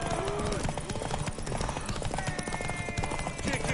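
Horse hooves clip-clopping in The Witcher 3 video game, a steady rhythmic clatter of hoofbeats close by, mixed with game ambience and talking.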